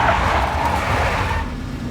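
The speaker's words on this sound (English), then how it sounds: "A big black Mercedes." A big black Mercedes drives in the video game Max Payne, its engine giving a steady, loud rumble with road noise that holds for two seconds and eases slightly near the end, with no voices.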